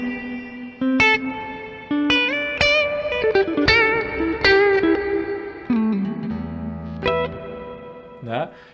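An electric guitar runs through a Caline Ragnarok reverb and delay pedal, with plucked notes and chords every second or so. Each note swells into a ringing, shimmering reverb tail that blooms after the attack and lingers between strums.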